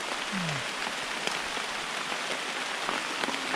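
Steady, dense rain patters on leaves and surfaces in a deep forest in Karen State, Myanmar, near a large tree. Drops hiss evenly throughout, close and continuous. A single brief chirp sounds early on.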